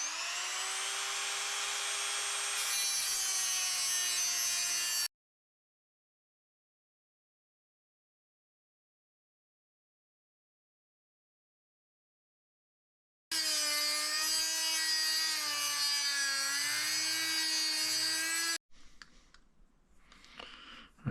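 A Dremel rotary tool cuts a slot into a stripped screw, its high-pitched whine running in two loud bursts separated by silence, ending with some faint handling noise.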